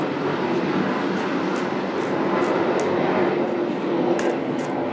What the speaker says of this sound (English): There's a Jet.